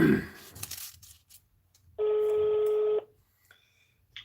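Telephone number dialed on a keypad for a call-in on a live show: one long steady dial tone about a second long, standing alone after earlier talk and noise, with faint background sounds around it.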